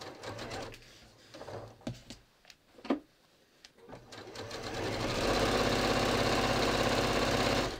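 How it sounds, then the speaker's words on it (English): A domestic sewing machine stitches a pant seam starting from the waist, beginning with short stop-start bursts and then running steadily and loudly for the last few seconds, close up with no talking. "this time when I sew it together, I'm going to start sewing from the waist like I did before"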